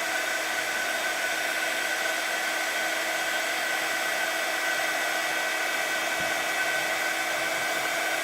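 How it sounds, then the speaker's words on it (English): A heat tool blows steadily throughout, setting a clear-ink glaze on a craft piece; the hot-air whir holds an even, loud hiss close by with no talking. "I'm just heat setting the glaze that I've put on with the clear ink"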